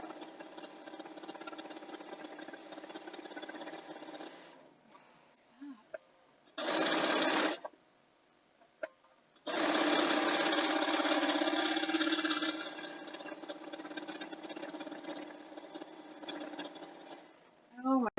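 Home sewing machine quilting a quilt, with fabric catching on the needle plate: a steady motor hum in stretches, with louder, faster bursts of stitching between pauses, close by with a voice talking at times.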